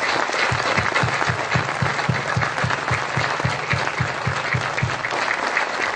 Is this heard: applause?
yes